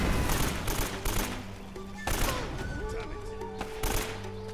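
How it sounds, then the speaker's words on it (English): Rapid AK-47 bursts in Uncharted: Drake's Fortune, dense strings of shots in two main volleys with a blast among them, loud and close, with in-game voices and effects mixed in. "It's amazing how many shots it actually takes with an AK-47."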